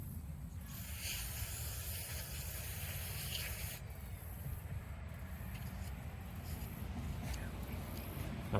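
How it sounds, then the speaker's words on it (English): Carb cleaner sprays in a steady, continuous hiss onto the removed carburettor of a Briggs mower, close and fairly loud throughout with no talking. "Some carb cleaner while we've got it off."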